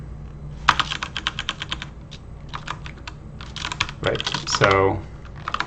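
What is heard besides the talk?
typing on a computer keyboard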